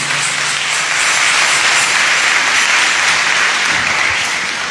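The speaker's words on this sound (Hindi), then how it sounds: "तो हम उनकी इस खिदमत के लिए ज़ोरदार तालियां बजाएंगे।" A church congregation at Sunday Mass bursts into loud, sustained applause, a dense wash of clapping that stays steady for the whole stretch with no voices over it.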